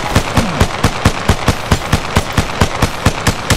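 Rapid automatic gunfire in Apex Legends, a steady stream of loud, evenly spaced shots at about five per second that carries on through the whole stretch.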